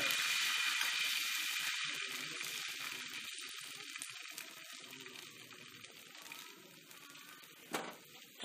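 Spicy tomato dosa batter sizzles loudly on a very hot, dry griddle, a steady bright hiss that eases slightly partway through, with a brief clatter near the end.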